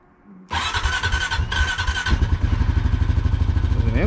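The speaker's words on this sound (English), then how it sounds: "we're gonna take the four-wheeler. We're in this thing in a minute. Crank her up." A four-wheeler ATV engine cranks briefly, catches and starts, then settles into a steady close idle with a fast, even putter.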